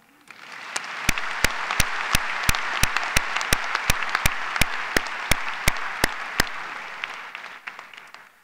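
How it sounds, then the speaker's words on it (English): Commencement audience applauding for about eight seconds, a steady wash of many hands under sharp, regular louder claps from a nearby clapper, fading out at the end. "Now you may clap"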